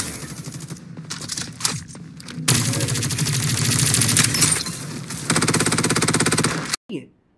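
Gunfire in the Farlight 84 battle royale video game: sustained automatic bursts and overlapping shots roar loudly and almost continuously, ending abruptly with a short trailing sound.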